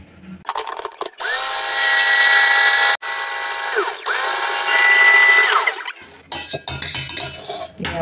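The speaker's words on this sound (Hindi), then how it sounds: "बारीक पीसते हैं और निकाल लेते हैं।" A mixer grinder finely grinds bread into breadcrumbs, a loud steady motor whine with rattling in two bursts, cut by a brief pause and winding down near the end.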